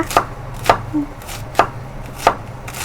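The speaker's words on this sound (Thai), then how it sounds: "หั่นกระหล่ำปีไว้ค่ะ" Knife chopping cabbage on a board, four or five crisp, evenly spaced cuts, close and distinct with no talking.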